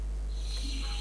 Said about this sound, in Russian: Кто-то спит, храпит.